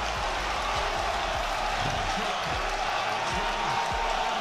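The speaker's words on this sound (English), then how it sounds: "The crowd going wild here!" Roaring crowd at a live esports grand final held in an arena, a steady loud wall of cheering and shouting with scattered thumps throughout.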